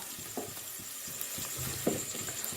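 Curry leaves and green chillies sizzling in hot oil for a kuravai fish gravy, a close continuous crackle broken by a few soft stirring knocks against the pan.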